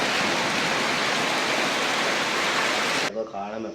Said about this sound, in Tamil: இடி வந்து மழை பெய்து கொண்டே இருக்குது